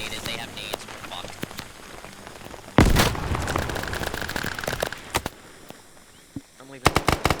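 A grenade explodes in a Vietnam war video game as a sudden loud broadband blast, followed by rumbling debris, scattered sharp crackles and distant gunfire pops, with some speech in the background.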